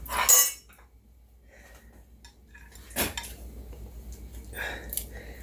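Chopped garlic and onions drop into a soup pot. A sharp metallic clatter of utensil on pot opens, then quieter clinks and scraping follow, with a second knock partway through.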